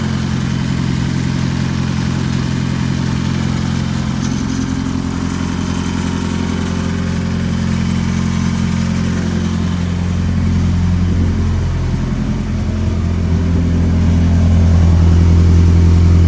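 Suzuki GSX motorcycle engine idling through warm-up with a faint lifter tick up top, a steady low rumble heard close and alone that swells slightly near the end.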